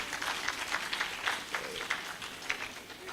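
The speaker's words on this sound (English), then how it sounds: "let's give them a big round of applause" Scattered clapping from a conference audience thanking the KIC organising team, moderate and fairly steady through the whole stretch, with no talk over it.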